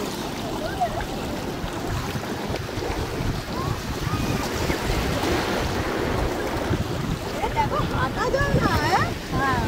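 Waves washing on a nearly empty beach, a steady broad rush of surf mixed with wind buffeting the microphone, with faint voices and bird-like chirps scattered through.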